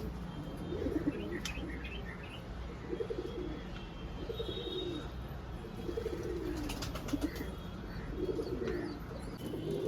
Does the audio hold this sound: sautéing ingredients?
no